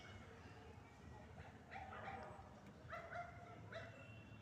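A dog yips and whimpers in a few short high-pitched bursts at a home, faint and partly masked by background noise and voices.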